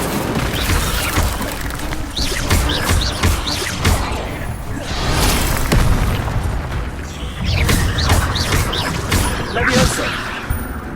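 Fire spell bursts in a Hogwarts Legacy duel, loud crashing whooshes and booms recurring in waves over a dense, busy combat mix with voices.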